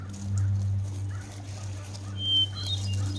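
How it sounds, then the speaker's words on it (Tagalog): Birds in a small forest give a few faint, scattered chirps over a steady low hum, with no voices. "Wala ka ibang maririnig dito, puro mga huni na mga ibon lang eh."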